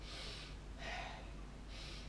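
A voice imitating sniffing, three short quiet breathy sniffs spaced about a second apart, heard close and alone.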